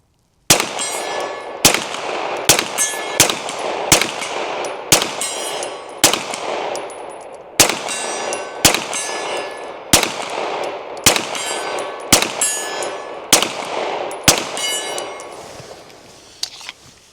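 Federal 115 grain rounds fired from a Canik Mete SFT pistol at a range: a quick string of about sixteen loud, sharp gunshots at a fairly steady rapid pace, each with a ringing decay, no talking.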